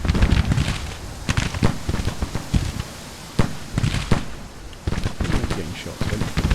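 Rapid musket volleys and scattered rifle shots crackle from the Grand Tactician battlefield, sharp bursts in irregular clusters over a windy background rumble, with a voice talking over the fire.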